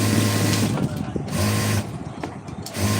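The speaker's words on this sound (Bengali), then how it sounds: "সেমিদের গলা সচরাচর মেশিন সেলাই হয় সেমিদের গলা সেলাই দিয়ে নিচ্ছি" A sewing machine stitches the neckline of a white semi shirt, its close mechanical whir running in steady bursts broken by brief pauses.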